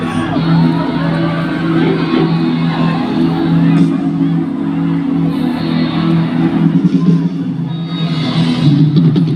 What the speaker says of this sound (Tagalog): Feeling ko dapat mas marinig ni Maki yung hiyawan natin